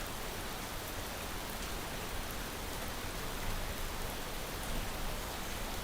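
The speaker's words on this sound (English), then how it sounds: "and now it's rain." Steady, even rainfall in the space-building game Space Engineers, a dense continuous hiss with no breaks, no voices and no thunder.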